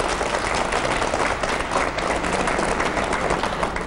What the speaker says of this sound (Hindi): सबसे पहले सभी बच्चों का जोरदार तालियों के साथ स्वागत।